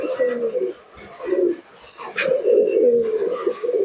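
Teddy and Moyna Jack pigeons coo inside a cage at a sale, several rolling, throaty coos close by in repeated bursts, with faint rustling between them.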